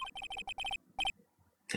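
A telephone rings in the Phoenix Wright: Ace Attorney video game, rapid clusters of bright electronic chirps followed by a shorter burst after a pause, clear and fairly quiet.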